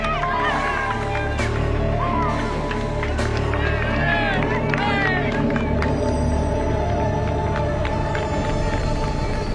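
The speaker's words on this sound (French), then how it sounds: "La foule des Pyrénées se presse sur le passage des champions." A dense roadside crowd in the Pyrenees at the 2001 Tour de France roars and cheers continuously, with shouts, whistles and clapping rising over a steady rumble of noise.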